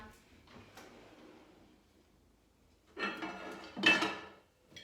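Kitchen clatter of a small pan being pulled from a cupboard or drawer while home baking milk bread, with two louder bursts of metallic rattling and knocking, the second sharper, over quiet room noise.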